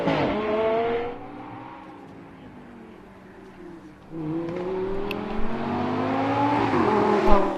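A Lamborghini race car engine on a rally stage revs and shifts, its pitch climbing, dropping through gears, then climbing again as it accelerates past at close range.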